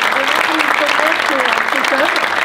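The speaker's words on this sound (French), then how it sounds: "je pense qu'on peut déjà l'applaudir." Audience applause at an entrepreneurs' round-table event on a resilience night, a broad steady patter of clapping that lasts the whole stretch, with a voice talking over it.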